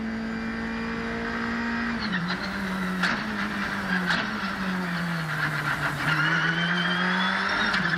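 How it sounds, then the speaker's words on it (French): A race car on a circuit brakes hard, its engine note dropping in pitch through downshifts with crackling blips and a steady interior drone throughout. "On va avoir un premier gros freinage ici."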